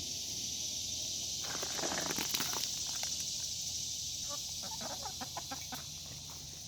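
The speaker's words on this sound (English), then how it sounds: "Here comes my chickens." Chickens clucking and chattering on and around a deck in short irregular bursts over a steady background hum, nearby and fairly loud.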